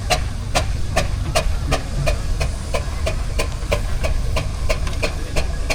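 A steam traction engine in a country show arena hisses and chuffs loudly, with sharp regular exhaust beats repeating about twice a second over a steady rumbling hiss.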